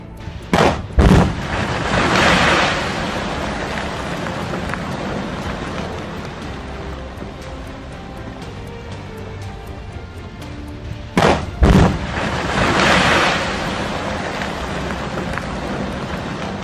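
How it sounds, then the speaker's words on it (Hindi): Two distant blasts from gunpowder charges at an illegal mining site in Sonbhadra, India, each a pair of sharp booms followed by a rumbling roll, separated by a long stretch of hissing background. "अब आप सोनभद्र क्षेत्र में बारूद के धमाकों की आवाज सुने।"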